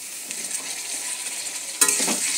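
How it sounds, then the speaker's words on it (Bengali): Capsicum and bay leaves are stirred in a frying pan for a sweet potato dish. A steady soft sizzle runs throughout, with a sharper scrape of the spatula near the end and no talking. "ভালো করে সব কিছু নাড়াচাড়া করে নেব।"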